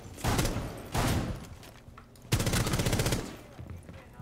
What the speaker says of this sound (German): Und dann schießt man die Terroristen kaputt.